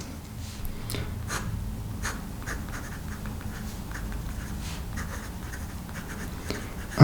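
A fountain pen on paper gives a soft, steady scratching with short strokes and small pauses, close and quiet against a faint room hum.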